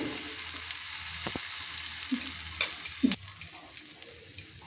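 Semolina batter spooned into a lightly oiled pan fries with a soft, steady sizzle, broken by a few brief utensil clicks and scrapes near the middle.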